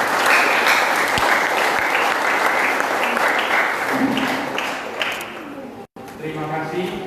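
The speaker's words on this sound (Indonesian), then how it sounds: "tepuk tangan." A congregation at a Sunday service at GMI Maranatha Mangsang church in Batam gives loud, sustained applause that fills the hall. Voices carry over it, and it cuts out briefly near the end before resuming.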